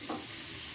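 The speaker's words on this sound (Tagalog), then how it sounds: "nagpiprito na rin ako" Marinated, flour-coated chicken frying in hot oil, a dense continuous sizzle and crackle heard close up, with a brief stirring scrape at the start and no talking.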